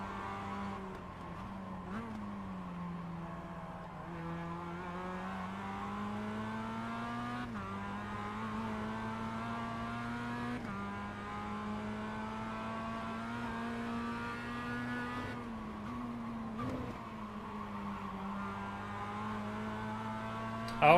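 Mazda MX-5 race car engine in iRacing at the Lédenon circuit, a continuous buzzing drone that climbs in pitch through each gear and drops sharply at every shift, steady and close throughout.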